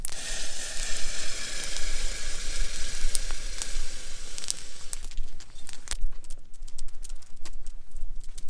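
Sausage sizzles on a hot bed of coals at a trailside camp cook, a steady crackling hiss with scattered sharp pops, fairly loud and close, easing slightly toward the end, with no voices.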